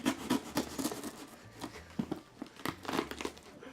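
A blade cuts and tears into a large cardboard gift box marked fragile, with close crinkling, scraping and ripping bursts in an uneven rhythm.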